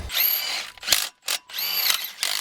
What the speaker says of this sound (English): Little impact. It's not torquing them super tight.